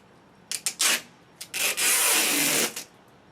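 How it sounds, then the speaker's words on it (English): Protective plastic film is peeled off the handle of an Andersen 3000 series storm door, giving a few short scratchy tugs and then a longer steady ripping rasp, close and alone. "you just want to remove the protective plastic"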